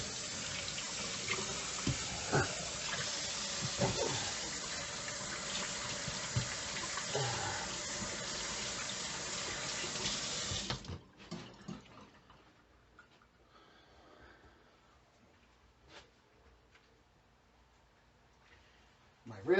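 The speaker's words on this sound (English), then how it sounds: "Let me wash my hands." A kitchen tap runs in a steady, close hiss for about ten seconds while hands are washed beneath it, with faint handling sounds, then shuts off, leaving quiet room noise and small clicks.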